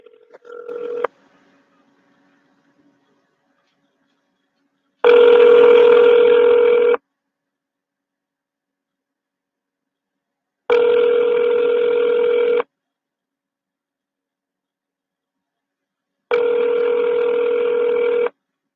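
After a brief burst of phone tones, a telephone rings back three times with long, evenly spaced rings while calling a number back. Each ring is loud and clear, separated by silence.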